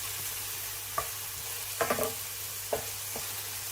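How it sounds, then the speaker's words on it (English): Finely chopped medium onion sizzles in ghee in a medium-heated pan, a steady hiss punctuated by a few sharp scrapes and knocks of stirring, with no talking. "Add 1 finely chopped medium onion and fry for about 5 minutes until softened and golden."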